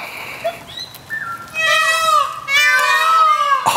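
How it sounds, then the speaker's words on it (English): A loud, nasal bird call with long wailing tones rising and falling, repeated twice close by, with faint rustling before it. "we've got a peacock."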